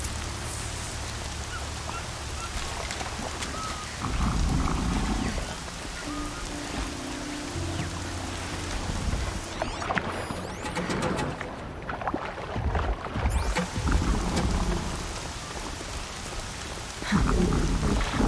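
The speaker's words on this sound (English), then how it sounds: "Rain's not so bad." Heavy rain pours steadily in Horizon Zero Dawn while deep thunder rumbles roll in repeatedly, loud and close, with occasional birds faintly chirping through the downpour.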